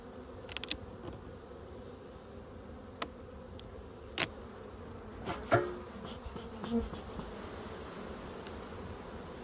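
Honeybees in a heavy winter hive crowded at the top, giving a soft, steady low hum throughout with a few brief louder bumps and knocks, fairly faint.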